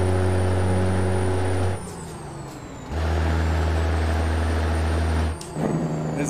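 Loud engine brake on a truck in American Truck Simulator, two long, deep, blatting bursts separated by a short quieter gap, with a hiss of air between them.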